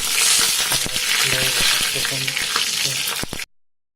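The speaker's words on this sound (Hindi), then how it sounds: "थोड़ा सूखा लाल मिर्च डालेंगे इसमें, और थोड़ा सा ये हो जाए, 1-2 सेकंड में हो जाएगा।" Dried red chillies fry loudly in hot oil for Bihari-style chicken, a dense, steady sizzle with a few clinks of stirring, close up, then cut off abruptly near the end.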